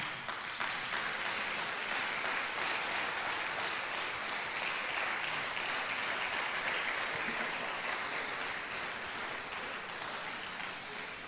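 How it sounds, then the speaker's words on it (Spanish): A church congregation claps steadily for over ten seconds, a dense, even wash of applause at moderate distance with no talking over it. "um forte aplauso ao Senhor."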